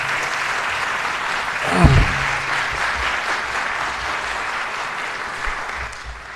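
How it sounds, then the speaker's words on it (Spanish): An academic audience at a book presentation applauds for Manuel Alcántara Sáez, steady dense clapping throughout with a brief low thump near the start. "Un fuerte aplauso para el maestro Manuel Alcántara Sáez."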